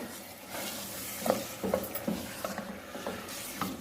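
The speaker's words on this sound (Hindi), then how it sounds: "बस अब हम इसको गोश्त को भूनेंगे" Mutton pieces sear and fry in a pot for nihari, making a steady sizzle over which a spoon scrapes and clicks in an irregular stirring rhythm.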